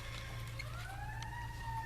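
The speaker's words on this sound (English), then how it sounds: "Ooh, an ambulance." An ambulance siren wails faintly in the distance, a rising and falling tone over low traffic rumble, heard briefly indoors and alone.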